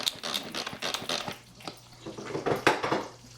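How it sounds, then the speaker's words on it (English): Rapid clattering and chopping clicks from a small hand-operated food processor chopping onions, busy and close, with plastic knocks and rattles bursting in uneven spurts. "onions, which I was just finishing chopping up here in my little manual food processor"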